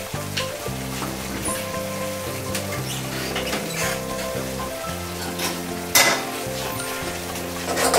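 Cod with tender garlic, in a dish of cod with garlic and cream, sizzling steadily in a pan that is swirled now and then, with a continuous close frying crackle over a low background hum.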